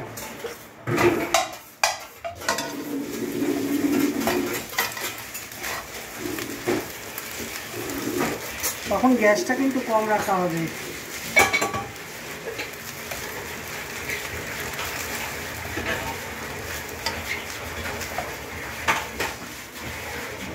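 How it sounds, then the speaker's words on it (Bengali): Cooked rice tipped into a hot, still-warm wok and stirred, with clattering metal-on-pan scrapes and bumps in a home kitchen while someone talks over it. "এবার দেখুন কি করে ভাতটাকে এবার ঢেলে দেব।"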